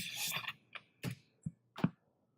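A handful of separate keystrokes on a computer keyboard, sparse and fairly close. The taps are spaced unevenly, with a brief rustling burst before them and no talking.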